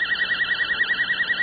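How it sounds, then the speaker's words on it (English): A voltage-controlled oscillator gives a steady electronic tone warbling at a rapid 10 hertz rate, an even pulsing vibrato, clear and close with no voices. "modulated a voltage-controlled oscillator with an exactly 10 hertz signal"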